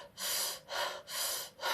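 Slow, deep breaths are drawn in and pushed out through the mouth in steady, even cycles, breathy and close. Three full breaths are heard, then a fourth begins, with no voice.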